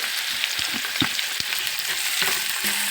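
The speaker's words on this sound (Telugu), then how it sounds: "కొంచెం చుక్కకూర వెల్లుల్లిపాయలు వేసి మనం బాగా కలుపుతున్నాము" Garlic and chukka kura (sorrel leaves) frying in a hot pan while being stirred, giving a steady loud sizzle broken by scraping and clinking of the spoon, with no talk.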